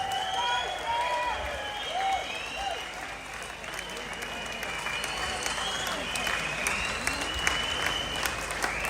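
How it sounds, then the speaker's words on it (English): A large crowd at a London street march claps continuously in dense, sustained applause, with cheering and voices mixed in throughout. "Please give her a massive round of applause."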